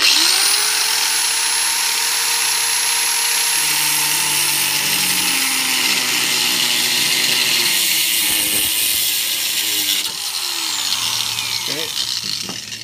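A power grinder bought at a hardware store runs steadily and loudly throughout, with its whine dipping and shifting as it is adjusted while working on a staircase baluster; speech is faintly mixed in.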